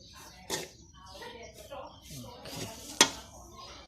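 Grated coconut dry-roasting in a pan, stirred steadily, with a couple of sharp utensil knocks against the metal over a soft scraping bed while someone talks throughout.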